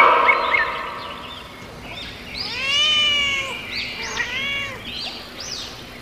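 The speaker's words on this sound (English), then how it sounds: "C for cat." A cartoon cat meows several times in rising and falling drawn-out calls, mixed with bright chirpy tones, heard alone with no talking.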